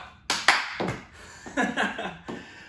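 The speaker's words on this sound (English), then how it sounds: "Okay, 2 claps." A few sharp hand claps sound close by, the first two quick and distinct, followed by softer slaps and muffled thumps in a small room.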